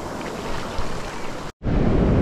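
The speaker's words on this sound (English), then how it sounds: "A pretty healthy swell right now, and definitely a lot of work to detect in these waves." Big ocean surf rolls and crashes steadily on a beach under wind noise, a loud continuous wash with a brief dropout near the end.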